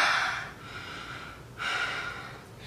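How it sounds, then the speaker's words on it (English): Deep breaths during a hips and spine yoga flow, two long airy inhale-exhale rushes close to the mic, each lasting about half a second to a second, steady and unhurried with no talking. "Big breath here."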